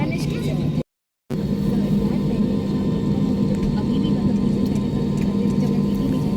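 An airplane slowly taxiing along the runway before a Hyderabad to Port Blair flight gives a steady, close, droning engine rumble that continues throughout, cut by a brief silent gap near the start.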